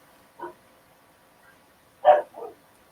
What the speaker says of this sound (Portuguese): Cachorro tá latindo.